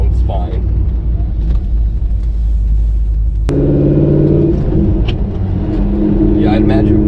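A C5 Corvette fitted with budget sound deadening runs cold, its engine a steady low rumble heard from inside the car, shifting midway to a higher, more tonal drone with faint clicks.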